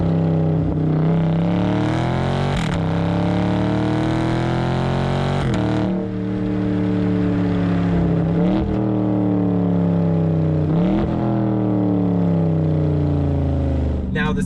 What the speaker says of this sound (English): that noise from the exhaust whenever you upshift sounds amazing